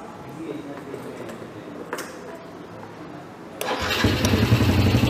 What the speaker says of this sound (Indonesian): sekarang kita nyalakan motornya.